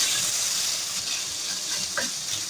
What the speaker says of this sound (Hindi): अब मैं इसमें शामिल करने जा रही हूँ क्यूब्स में कटी हुई चिकन। इसको हम 1 मिनट तक कलर चेंज होने तक फ्राई करेंगे।